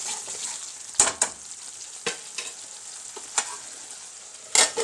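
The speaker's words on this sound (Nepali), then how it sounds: "यहाँ चाहिँ मैले मसला भुट्दै छु है।" Masala spices frying in a pan for chole, a steady sizzle with sharp stirring scrapes and clatters at irregular moments, close and alone without any talking.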